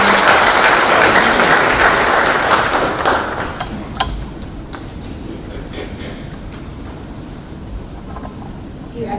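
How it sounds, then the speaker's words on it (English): Warm applause from the audience at an African Chief Justices' ADR summit in Kenya, welcoming the Chief Justice to the podium; a full, dense wash of clapping that gradually thins and fades toward the end. "Why don't we welcome her with a warm clap?"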